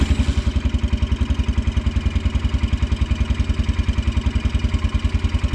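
A Kawasaki Brute Force 300 ATV engine, just pull-started, runs steadily with a fast, even low thumping pulse and light mechanical clatter, loud and close throughout with no talk.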